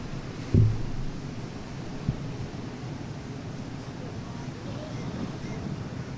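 Wind buffets the microphone over waves breaking on a beach during a kite foil race, a continuous broadband roar with a brief thump early on and no clear voices.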